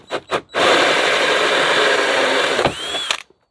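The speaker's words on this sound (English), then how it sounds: "When I'm drilling a sound hole in a box, I always put a little piece of wood on the inside" A power drill bores a sound hole through a wooden cigar box, with two short trigger bursts followed by a sustained, loud whining grind and a brief spin-down squeal as it breaks through.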